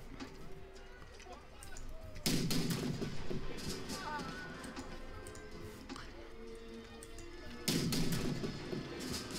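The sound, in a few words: artillery shot in video game March to Glory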